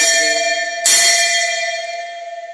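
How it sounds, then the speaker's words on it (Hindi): A metal temple bell at Shree Gopinath Temple in Netravali, Goa, is struck once loudly and close, its bright ringing tone sustaining and slowly fading with a pulsing shimmer. "अरे ऊपर का मंदिर का घंटी लगी हुई है"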